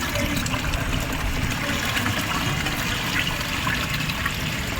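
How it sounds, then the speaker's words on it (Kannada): Water poured out in a steady, continuous rush, close and fairly loud, with no voices over it. "ಈ ಎಲ್ಲ ನೀರು ಹಾಕಾಯ್ತು ನಾನು."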